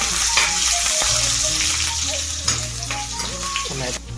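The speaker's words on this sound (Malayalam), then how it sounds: "ഇഞ്ചി കൊടുക്കാം" Chopped ginger dropped into hot oil with browning garlic in a pan for a Kerala dried-fish curry, giving a steady close sizzle with some clattering of utensil stirs throughout.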